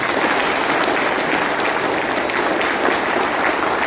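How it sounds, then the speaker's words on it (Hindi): Audience at a night stay motivational program at a resort in Lataguri breaks into loud, dense applause, a continuous wash of many hands clapping with no pauses. "एक बार जोरदार ताली हो जाए।"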